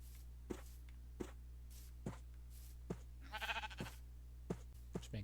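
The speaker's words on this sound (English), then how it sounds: "I think that's the black sheep up there" A black sheep in the Minecraft video game gives a short, wavering bleat midway, set among soft, evenly spaced footstep taps in an otherwise quiet scene.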